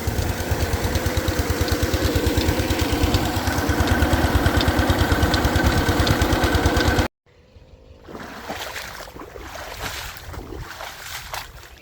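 Peter diesel engine running a water tubewell, a loud rapid steady chugging thump for several seconds, then a brief cut and a fainter continuous engine rumble afterward.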